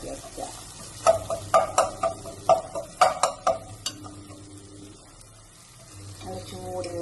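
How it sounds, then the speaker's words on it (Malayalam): Garlic and ginger fry in hot oil while a spoon stirs them, giving a series of sharp scraping clinks over a steady sizzle. The stirring fades to a quieter sizzle before a few more clatters at the end. "ഇഞ്ചി വെളുത്തുള്ളിയുടെ കുറച്ച് സമയം ഒന്ന് അടുപ്പത്തിട്ട് പച്ചമണം പോകുന്നവരൊന്ന് നന്നായി ഇളക്കി വയ്ക്കുക"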